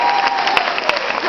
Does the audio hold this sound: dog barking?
no